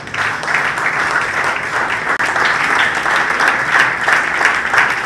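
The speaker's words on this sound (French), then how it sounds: "Est-ce qu'on peut acclamer?" A church congregation at a French-speaking sermon applauds loudly and continuously, dense sustained clapping from a crowd filling the whole stretch.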